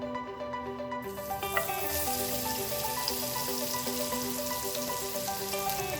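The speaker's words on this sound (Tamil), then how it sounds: "இந்த வெங்காயம் நல்லா வதக்கிடலாம்." Chopped onion sautéing in ghee for Tamil-style ghee rice, a steady, close sizzle and crackle over a continuous musical tone, with no talking.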